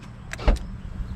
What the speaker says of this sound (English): I had to put a new actuator for the door, so the rear door is working now.